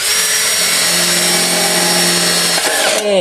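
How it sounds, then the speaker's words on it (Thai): A strong power drill bores holes into a metal can for a mosquito-repellent smoker, giving a loud, steady whine for about three seconds before spinning down. "มีสว่านแบบนี้นะ เป็นมาสรุด้วยน ะ เครื่องดี เครื่องแรงนะครับ ใช้งานเจาะรูโคตรง่ายเลยนะครับ"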